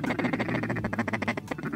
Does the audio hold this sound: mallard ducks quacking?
yes